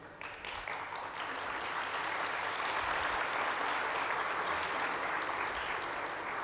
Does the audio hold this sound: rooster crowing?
no